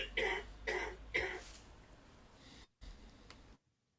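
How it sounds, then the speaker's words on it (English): A man coughs three times in quick succession, close and fairly loud, followed by a quieter rasp before the sound cuts to silence. "he has got a cough around"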